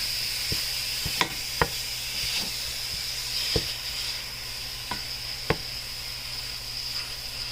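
Ground beef for chili sizzles and steams in a pot with a steady, soft hiss. A few sharp clicks and taps from stirring land at irregular intervals.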